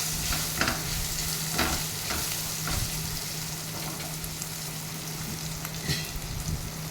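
Onions with salt fry in a small amount of oil in a pan, a dense continuous sizzle heard up close with faint intermittent stirring scrapes and a low steady hum underneath.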